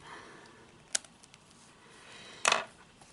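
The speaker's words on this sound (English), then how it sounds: "Do the final snip" Two crisp scissor snips cut the cord on a decorated craft egg with pearl trim, one short click early and a louder, slightly longer snip later, close up in an otherwise quiet room.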